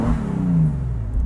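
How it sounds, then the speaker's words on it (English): A 2018 Bentley Continental Supersports convertible revs briefly, a loud, deep, rumbling exhaust note that swells and holds for about a second, close and with no talk. "Nice subtle exhaust note to the vehicle"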